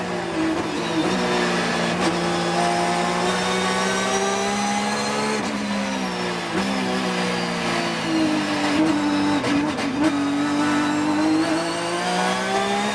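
Onboard sound of an IGT race car at Mid-Ohio: a loud, continuous engine howl close to the microphone, its pitch rising and dipping through gear changes and corners, heard alone without commentary.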